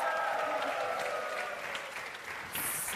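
Studio audience applauding on a Romanian game show, a steady dense wash of clapping throughout with a brighter burst near the end.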